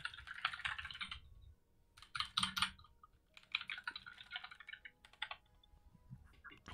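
Quiet bursts of rapid typing on a computer keyboard, clustered key clicks in short runs separated by brief pauses, with no voices.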